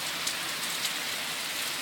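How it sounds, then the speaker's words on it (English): Steady rain falling outdoors, a continuous, even hiss of drops on surfaces, with a couple of slightly louder drop splashes, no voices. "See all the rain out there, all the lots of water."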